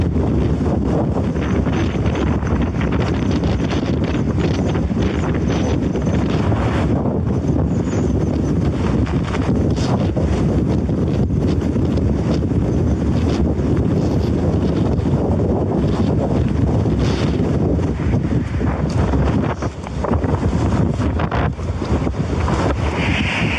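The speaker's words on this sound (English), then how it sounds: "struggling against the brutal winds that threatened to rip his gear from his hands" Strong wind roars continuously across a mountain descent, a dense buffeting rush battering the microphone with steady, heavy gusts and no pauses.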